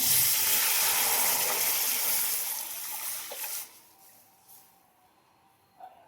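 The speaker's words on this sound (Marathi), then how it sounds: "आता त्यामध्ये दूध टाकून घेते" Milk poured into a cooking pan that already holds cashews, almonds and cardamom, a steady rushing pour that fades out after a few seconds, followed by faint clinks.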